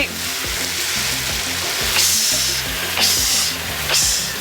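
Shallots fry in hot oil in a pan, giving a steady, loud crackling sizzle with periodic stirring scrapes every second or so, no talking.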